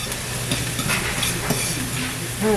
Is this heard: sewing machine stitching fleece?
no